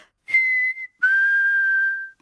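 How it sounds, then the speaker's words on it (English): Clear whistling, two pure tones: a short note and then a longer, slightly falling one, close and alone. "Mummy Pig can whistle."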